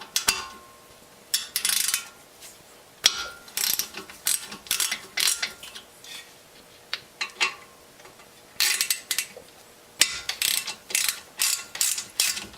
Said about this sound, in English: using a size 7 Allen wrench or Allen key, remove the caliper guide bolts